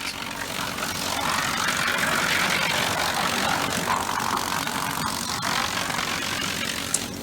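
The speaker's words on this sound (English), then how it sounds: "Look how good that chipper is." Wood chipper engine used for pulpwood and slabs running at a steady idle, a continuous mid-distance rumbling drone with a faint click near the end and no voices.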